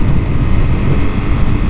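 Honda CRF Rally motorcycle engine revving hard in gear during highway acceleration, a steady loud droning roar that holds constant without pauses.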